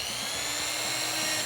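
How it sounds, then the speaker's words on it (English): A steady high-pitched drill whine runs continuously as it bores a hole in an aluminum wok lid, even and unbroken, with no voices. "and drill a hole"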